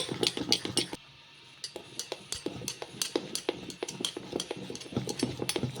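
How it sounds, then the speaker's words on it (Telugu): A spoon stirs semiya tomato dosa batter mixed with baking soda, giving repeated close clinks and scrapes against the bowl in a steady, uneven rhythm, with a short pause near the start. "ఇలా మొత్తం కూడా కలిసేలాగా కలిపేసుకోవాలి అండి"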